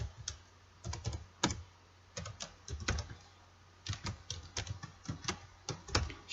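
Typing a search on a computer keyboard: quiet clusters of quick key clicks in short bursts separated by pauses, close up, with no talking.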